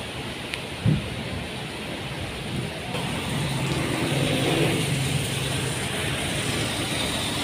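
Heavy nighttime rain near a terminal during a lightning storm, a dense steady hiss that swells louder partway through, with a brief thump early on.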